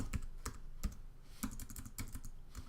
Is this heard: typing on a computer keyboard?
yes